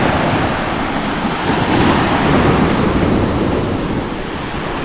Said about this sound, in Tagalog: Lakas ng alon talaga o.